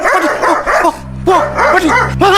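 Several dogs bark in a sharp, loud flurry for a radio drama sound effect, with rapid overlapping yips and barks broken by a brief pause and no talk over them.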